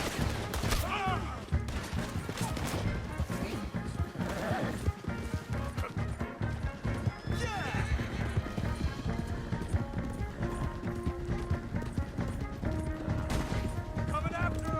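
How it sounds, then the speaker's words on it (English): A Red Dead Redemption 2 gunfight on horseback: rapid volleys of gunfire over galloping hoofbeats and horse whinnies, with shouting voices and a dense, loud mix of game sound throughout. "Open fire on him!"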